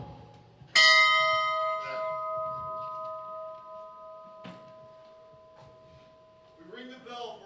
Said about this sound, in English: We ring the bell on behalf of the Coast Guard fallen.